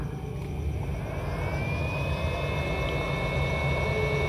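A Cody 858D hot air solder blower is switched on and blows, a steady, close, airy whoosh with a thin tone that rises in pitch as it spins up and then holds steady.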